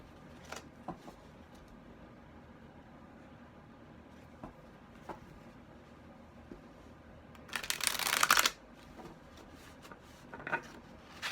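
A deck of cards is shuffled for a tarot-style pick-a-card reading, soft scattered riffles and taps with one louder burst of rapid flapping near the end, close and quiet, no talk.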